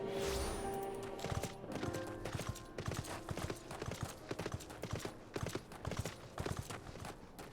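Horse hooves clip-clop in a steady trotting rhythm, close by, over a bed of ambient music, in the video game Final Fantasy XIV.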